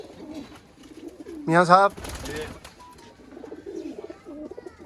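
Pigeons cooing close by in a home pigeon loft, a short burst of throaty warbling coos between quieter stretches, with someone talking over the birds.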